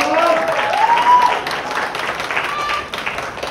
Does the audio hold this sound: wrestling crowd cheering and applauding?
yes